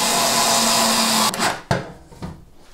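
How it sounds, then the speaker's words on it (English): A powered screwdriver whirs steadily while driving a screw into a Bosch washing machine panel, then stops with a few short clicks and handling knocks. "And now you put the screw in."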